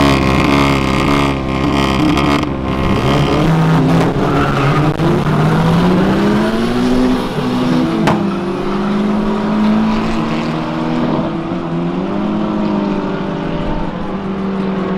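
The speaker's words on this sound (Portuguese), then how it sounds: "350, 400 cavalos, vai acelerar agora." Mercedes CLA 45 AMG and a turbocharged VW Gol accelerating hard in a street race, engines roaring loud and steady throughout with rising revs.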